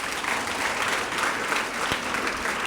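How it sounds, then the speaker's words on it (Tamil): Audience applauding at a university students' induction programme, a steady dense wash of clapping sustained throughout, moderately loud with no pause. "கைத்தட்டு கொடுங்க பார்ப்போம்."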